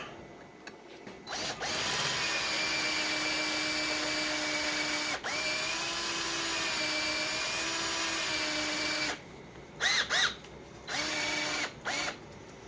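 A power drill whines steadily for several seconds during a GM electronic ignition conversion on a Mopar 400 engine, close and loud, then stops and fires in short bursts near the end.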